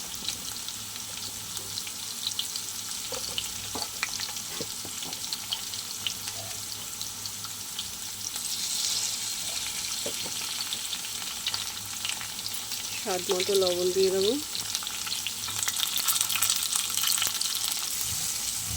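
Tilapia fish fries in oil with salt and turmeric, a continuous hissing sizzle that grows louder partway through, while a person speaks briefly over it.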